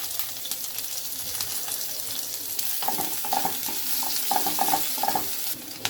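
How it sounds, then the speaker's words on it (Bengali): Onions hitting hot oil with bay leaf, dried chilli, cardamom, cinnamon and cumin, a moderate steady sizzle that grows busier halfway through with light clinks of stirring, no talk. "এবার আমি পেঁয়াজ দিয়ে দিব।"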